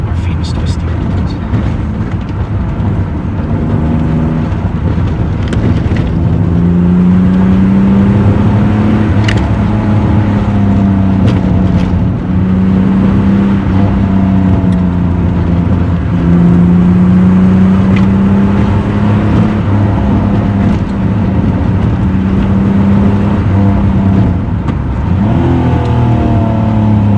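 A Pontiac Fiero's 2.8-liter V6 drones steadily from inside the car while it is driven on twisty roads, its engine note rising and falling with the throttle. A person talks over it throughout.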